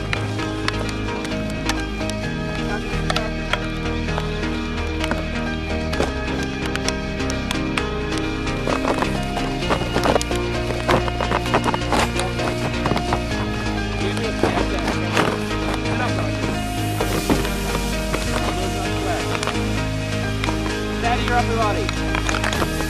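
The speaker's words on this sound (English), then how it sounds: "Now, lovely canter." Horse cantering during a riding lesson, with rhythmic hoofbeats throughout under an instructor's loud continuous coaching voice.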